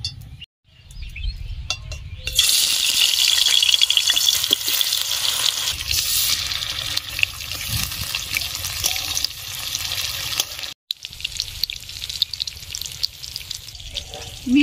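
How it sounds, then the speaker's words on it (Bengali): Pumpkin pieces fry in mustard oil with a loud, steady sizzle that starts after a short pause and runs on, broken once by a brief drop before resuming. "এবারে পিসগুলো আমি সরষের তেলে ভেজে নিব"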